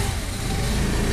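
A Honda Activa scooter engine runs steadily just after its battery has been charged, giving a continuous close, loud mid-pitched engine drone with no pauses.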